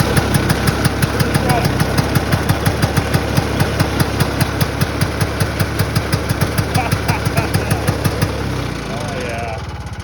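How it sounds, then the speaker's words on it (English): A 1970 Ski-Doo Elan 250 single-cylinder snowmobile engine runs right after a cold start in deep-frozen weather, with a rapid, steady, close-up two-stroke putter, and someone speaks briefly over it near the end. "I'm going to start up the old Elan"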